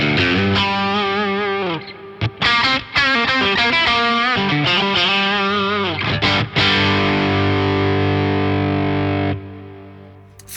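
Electric guitar driven through an Origin Effects Halcyon Green overdrive pedal, the drive turned up from a clean tone, playing loud sustained distorted chords and riffs with a few brief pauses and ringing out near the end.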